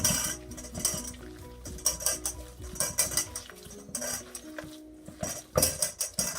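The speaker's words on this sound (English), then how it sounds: "I'm going to mix this with my hands and start rolling the meatballs." Meatball mixture mixed by hand in a bowl, heard as soft irregular squishing and tapping with clinks of utensils and dishes nearby, fairly quiet and close, no talking.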